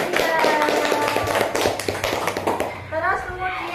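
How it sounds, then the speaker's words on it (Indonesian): Children in an Indonesian classroom clap for a classmate: a quick burst of close, scattered handclaps that fades into young voices chattering and talking. "Tepuk tangan buat Mbak Mutia."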